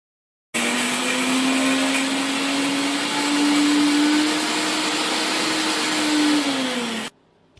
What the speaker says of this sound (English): let's grind together the grated coconut, green chilies, garlic and coriander leaves in a mixer